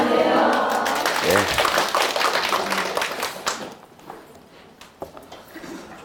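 A lecture audience gives a burst of clapping, loud and close at first, then thinning into scattered claps over several seconds.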